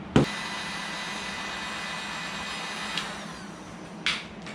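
A heat gun warms PVC pipe for bending into a surf rod holder, giving a steady, continuous blowing hiss from start to finish, with a sharp click near the beginning and a couple of brief knocks later on.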